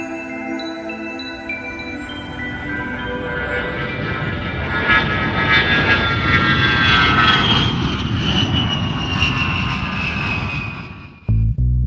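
An Il-62 jet airliner's engines roar loudly, building into a broad, sustained whine and rumble with rising tonal harmonics as the aircraft passes close, then cutting off abruptly at the end.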